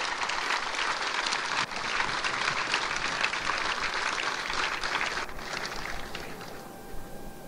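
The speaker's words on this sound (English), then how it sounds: "So a round of applause, please." Audience applause at a military change of command ceremony for Marine Forces Pacific, a dense, steady crowd clapping that holds loud and even for several seconds before thinning slightly near the end.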